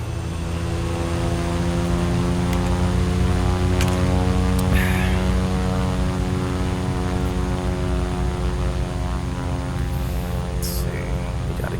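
In Flight Simulator X, a propeller plane departing Cross Keys (17N) powers up for takeoff, its engine and prop giving a loud, continuous buzzing drone that holds steady throughout.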